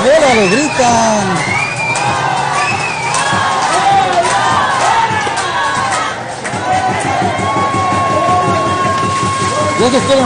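A crowd shouts and cheers throughout a Yucatán vs Cuitláhuac baseball final, a dense, steady roar of many voices at close range, with a commentator talking over it.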